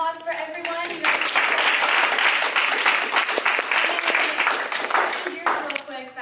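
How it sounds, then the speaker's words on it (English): An audience gives one final sustained round of applause, dense and steady from start to finish, with talking heard over it at the beginning and again as the clapping thins out at the end. "one final round of applause for everyone"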